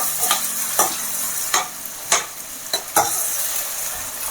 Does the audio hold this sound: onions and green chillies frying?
yes